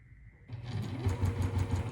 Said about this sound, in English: I've been sewing really, really slow.